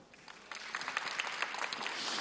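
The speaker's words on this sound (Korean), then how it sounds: "큰 박수 부탁드리겠습니다." Faint, distant applause from a keynote audience at Cisco Connect Korea 2019 builds slightly over about two seconds as a speaker is welcomed on stage.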